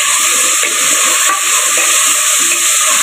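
Chopped tomatoes go into a pan of sautéed onions for a mutton paya salna, giving a loud, continuous frying hiss that holds steady throughout.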